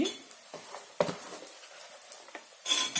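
Thinly sliced onion frying over medium heat in a steel kadai with peas and cauliflower, giving a soft sizzle broken by a few metallic scrapes and clinks of a ladle against the pan, close up, with no voices.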